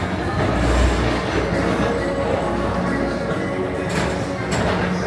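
A Magic Kingdom ride train at Walt Disney World in Orlando, Florida rolls along its track in a steady, close, continuous rumble with faint rattles and brief squeaks near the end.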